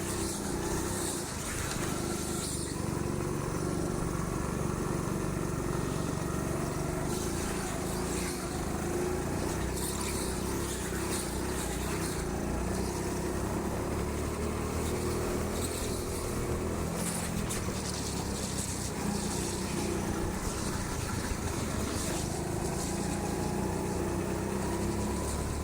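A go-kart engine drones steadily through a busy session at the TeamSport Sheffield indoor track, its tone rising and falling slightly as the driver pushes to warm the tyres, with a constant dense motor noise throughout.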